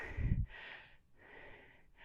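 Heavy breathing after a set of kettlebell Turkish get-ups, with a strong exhale or snort at first, then two slower, softer breaths close to the mic and no speech.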